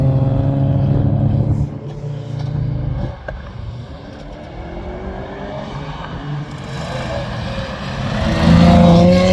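A car drives on the Zilākalns autotrack during a track day, its engine droning steadily close by and swelling louder toward the end as it passes or revs.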